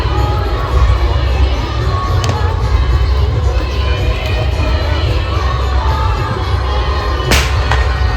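A large crowd at a Chhath Puja festival makes a steady, dense roar of voices and shouting, with a few sharp pops cutting through the continuous din.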